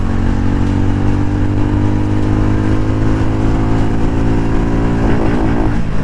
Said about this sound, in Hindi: तो बाइक को एक बार खींच के देखते हैं।